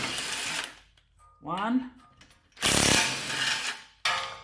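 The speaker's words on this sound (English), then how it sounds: "So I have again my impact wrench." Short bursts from an impact wrench backing out 17mm bolts on a Toyota Tundra during lower ball joint work, loud rattling hammering in separate blasts with a brief spoken word in between.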